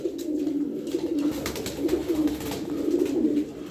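A flock of twelve pigeons coos continuously in low, throaty, rolling calls, close and fairly loud, with several birds overlapping and no voices.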